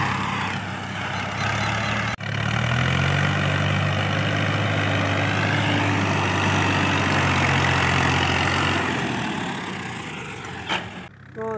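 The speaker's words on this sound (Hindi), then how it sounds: "माशाल्लाह फिएट 480 ट्रैक्टर है जिसको हमने जंप लगवाया है" A Fiat 480 tractor engine, just jump-started, runs loud and close in a steady, low, throbbing idle that holds for most of the stretch, briefly dipping near the start and easing off at the end.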